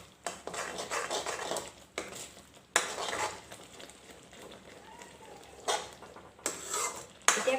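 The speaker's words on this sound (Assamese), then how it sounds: "এইখিনি দিয়াৰ পাছত মই লৰাই দিম এইখিনি ভালকৈ।" A spoon stirs chili powder and garam masala in a metal pan for egg dum curry, heard as repeated close scraping clinks against the pan with soft sizzling in between.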